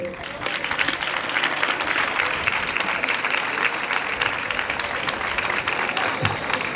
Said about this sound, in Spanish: Un fort també aplaudiment per a ell.